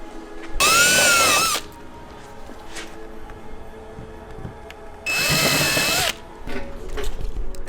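Two bursts of a power drill whirring at high speed, each about a second long, separated by quieter handling noise, while re-drilling a hole on a BMW E36.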